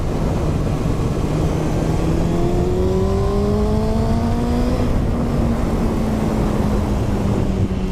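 A Kawasaki Ninja 636 motorcycle with an aftermarket exhaust revs hard as the throttle is twisted, its engine note sweeping upward in pitch, then easing and holding, loud and close with no talking.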